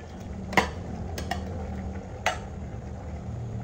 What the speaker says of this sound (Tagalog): Halu-haluin lamang natin at medyo igahin.